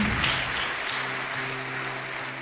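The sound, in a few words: church congregation applause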